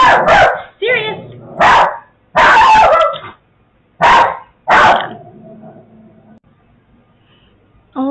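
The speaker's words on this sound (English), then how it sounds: "Sirius just started barking at nothing" A dog named Sirius barking indoors: a series of loud, close barks and yips in uneven bursts, followed by a quieter stretch with a low whimper before one more short yip.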